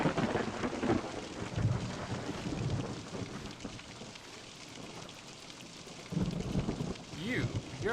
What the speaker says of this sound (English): I would love to get out of this rain